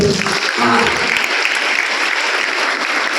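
A school youth festival audience claps for a student who won a gold cup, a dense burst of applause that starts at once and carries on loud and steady throughout.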